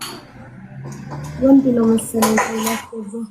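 Spoons and dishes being washed in a large kitchen clink and clatter in the background, a few sharp metallic taps beneath a person talking.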